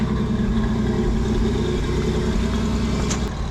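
The Pathmaker rock crawler rig's engine idles cold and a little rough in the snow, a steady close mid-low rumble holding evenly throughout with no voices.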